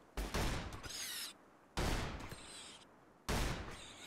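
Gunfire in the RimWorld video game as colonists shoot beavers, three loud close bursts of shots with short gaps between them, alone without talk.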